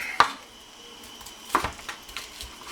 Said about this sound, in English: we're just going to chop all this up